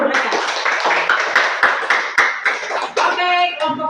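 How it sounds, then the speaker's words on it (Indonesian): A classroom group claps hands at a teaching practice session, loud and close with uneven rhythmic claps, and voices mixed in, including a brief higher tone near the end. "Tepuk tangan dulu untuk mereka."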